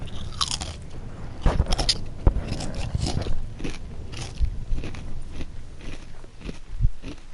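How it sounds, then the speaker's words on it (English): Crisps crunched in Red Dead Redemption 2: repeated crisp bites and crunching chews, close and fairly loud, in an irregular rhythm over several seconds with no talking. "Well, we call them crisps here. They're jolly delicious. I'll even crunch one for you."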